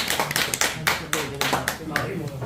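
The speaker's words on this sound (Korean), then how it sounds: "우리 무차별적인 박수로" An audience claps for a speaker at a literary talk with sparse, uneven claps from a small group, close and distinct. Talk runs alongside.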